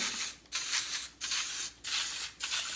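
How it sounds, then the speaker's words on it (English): Cooking spray is misted into cupcake liners for chocolate cupcakes in several short hissing bursts, four in quick succession with brief pauses between them, close and fairly loud, with no talking. "I'm gonna spray each liner."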